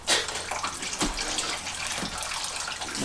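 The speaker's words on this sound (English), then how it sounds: "Just let that tank drain out." Coolant pours steadily out of the tank of a BMW E36 radiator, a continuous close splashing gush with small surges, no voices.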